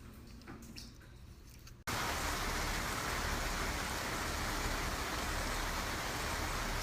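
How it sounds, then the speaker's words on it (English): Summer rain comes down hard and steady at a house, a quieter background suddenly giving way to a dense, loud, continuous wash of falling water. "It's raining at my house."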